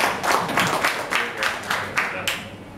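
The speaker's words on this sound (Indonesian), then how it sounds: "Tepuk tangan untuk beliau berlima itu." A small group at a school committee meeting claps for five committee members, producing sparse, individually audible claps in an uneven rhythm, close by and moderately loud.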